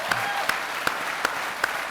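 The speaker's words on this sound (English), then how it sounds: "I all think you ought to give Sarah an incredible round of applause tonight too" An audience claps for Sarah at an evening event celebrating Atlanta Falcons quarterback Matt Ryan, a brief steady patter of applause with a few sharper claps standing out.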